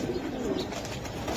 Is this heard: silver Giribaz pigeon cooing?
yes